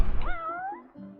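A cat in the video game Final Fantasy XV gives a single clear meow with a rising, bending pitch. It is close and distinct and comes after a brief burst of other game sound, with no talking.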